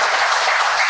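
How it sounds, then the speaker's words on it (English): A crowd applauds steadily, dense clapping filling the whole moment at a strong, even level with no voices over it. "round of applause for Andy."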